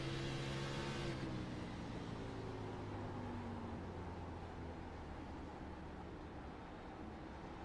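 A race car engine in a racing video game, heard from on board, holds a steady high drone with a tone that drops away early on, a continuous loud hum with no talking.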